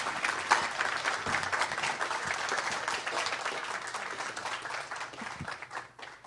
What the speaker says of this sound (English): Everyone, a round of applause for Minister Miller.